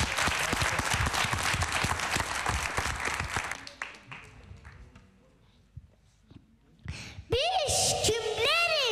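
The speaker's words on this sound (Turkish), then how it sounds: "biz şöyle koca bir alkış verelim önce" Loud applause from a crowd fills the first few seconds, fades to a quieter stretch with scattered sounds, then music-like tones rise at the end.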